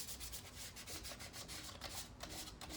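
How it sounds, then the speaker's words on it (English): Hand sanding a mask with 400 grit sandpaper, a close, quiet, steady rubbing with quick irregular strokes throughout, no talk. "next step is to do the 400 grit sandpaper"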